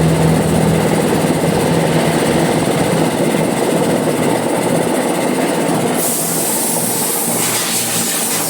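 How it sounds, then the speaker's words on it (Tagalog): A car air-conditioning compressor runs steadily during an air-con recondition on a Traviz, a loud continuous mechanical drone with a brighter hiss joining near the end. "compressor."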